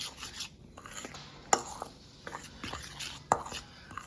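A spoon stirring a dry mix of brown sugar, salt and black pepper in a bowl, with soft gritty scraping and a few sharper clinks of the spoon against the side, close and alone.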